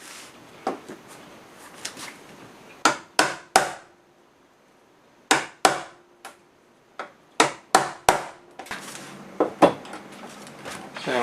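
Sharp, loud chisel blows on wood as a door hinge recess is cut out, coming in uneven bursts of several close strikes with short pauses between them.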